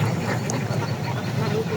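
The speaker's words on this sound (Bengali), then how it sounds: "পিছনে পিছনে হাঁটে সহস্রাধিক হাঁস।" A large flock of over a thousand farm ducks walking in an open wetland field in Satkhira, Bangladesh, giving a dense continuous chorus of quacking at moderate distance.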